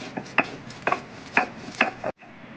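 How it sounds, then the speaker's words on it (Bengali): Green chillies and garlic being pounded into a paste on a grinding stone, a series of sharp rhythmic knocks and scrapes at steady intervals, close and moderately loud, with no talk. "3টে কাঁচা লঙ্কা দিলাম, 3 কুঁড়ি রসুন দিয়ে আমি এগুলো ভালো করে বেটে নেবো।"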